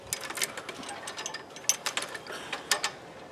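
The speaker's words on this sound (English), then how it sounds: "as you see, I'm using a come along" A come-along ratchet cranked to tighten welded wire fencing outdoors: a quick series of sharp metallic clicks from the pawl, fairly close, with no talk over them.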